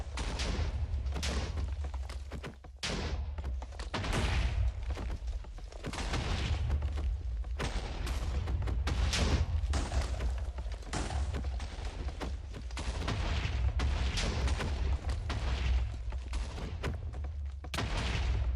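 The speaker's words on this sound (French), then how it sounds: "on entend l'explosion des deux côtés" Dense, continuous Minecraft aerial battle noise with rapid explosion booms and bursts of gunfire crackling on and on, loud and chaotic throughout.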